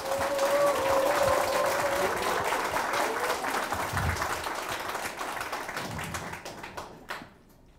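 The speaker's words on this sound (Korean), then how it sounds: "큰 박수로 맞이해 주시면 감사하겠습니다." A Korean audience gives steady, dense applause to welcome a visiting Saenuri Party lawmaker at a local meeting in Yeongcheon. The clapping rolls along at full strength, then thins out and stops near the end.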